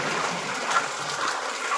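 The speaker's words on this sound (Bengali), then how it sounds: "যে বৃষ্টি হচ্ছে, বৃষ্টি থামার মতো না।" Steady, dense rush of heavy rain, a constant broadband hiss with no pauses or voices.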